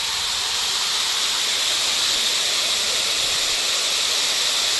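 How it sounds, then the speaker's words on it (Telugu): Steady rushing water flows at a Buddhist temple in Genting Highlands, Malaysia, a constant broad hiss heard close up and alone, with no break for the whole stretch. "ఇదంతా వాటర్ సౌండ్."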